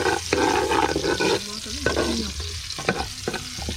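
Ginger is stirred in a sizzling cooking pan, with steady frying noise and scraping strokes of a utensil, loud and close, while a low voice murmurs briefly underneath.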